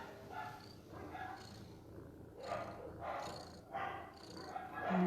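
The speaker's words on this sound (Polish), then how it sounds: "ale głośno mruczy" A kitten purring loudly at close range, a steady rough rumble in rhythmic breathing pulses, quiet overall with a soft voice faintly present underneath.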